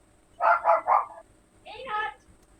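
Dogs indoors give three quick, close barks in a row. After a short pause comes a higher, whining yelp.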